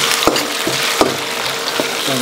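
Chili bean paste, dried chilies, spices, scallion, ginger and garlic stir-fried in hot oil in a wok for braised pork ribs, a steady close sizzle broken by a few sharp clacks of a spatula against the pan.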